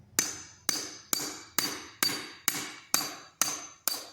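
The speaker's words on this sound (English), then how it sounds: "we're going to get on the side of the pin and then swing a hammer swing." A hammer strikes a pin on the knotter of an MF224 baler eight times at an even, steady pace, each blow a sharp ringing metallic crack that fades quickly, close and clear.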